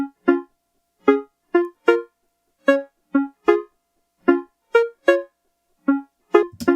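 Short, bright chords from an OP-1 synthesizer stab out one after another in a bouncy, uneven rhythm, each clipped with silence between, clear and up front.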